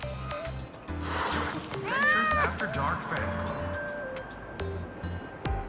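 A frightened stray cat meows in a fantasy video game world, a few short cries ringing out amid soft ambient music, with characters talking around it.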